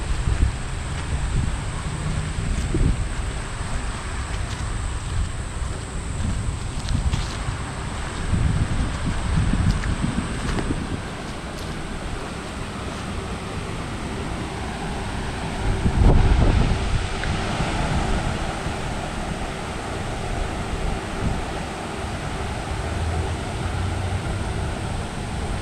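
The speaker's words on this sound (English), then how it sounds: "well, I suppose you'd call them rapids," Steady broadband rush of flowing water, like a creek tumbling over rapids, continuous and fairly close, with some wind noise buffeting the microphone.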